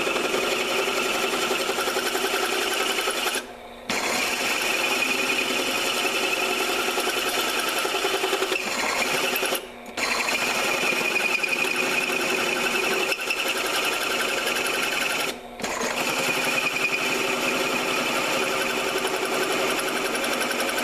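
Welding on the rusted radiator support core of a Chevy Astro / GMC Safari van, a steady crackling, buzzing arc held close and loud in three long runs, each broken by a brief pause.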